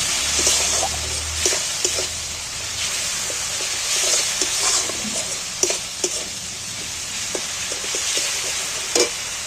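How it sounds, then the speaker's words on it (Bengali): Spice paste of chili and turmeric fries in a pan with an egg dish, making a steady close sizzle broken by repeated scrapes and clicks as it is stirred. "এবার আমি মশলাটা সম্পূর্ণভাবে কষিয়ে নেব"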